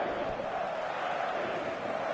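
Stadium crowd noise from an eFootball match, a steady, dense roar that stays even and loud throughout with no clear individual voices or peaks.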